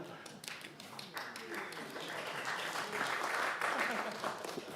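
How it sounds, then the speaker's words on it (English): Applause from people in a county council chamber, a sustained round of clapping that swells slightly and holds steady for several seconds, with some voices mixed in. "Can I have an applause for the IT help desk?"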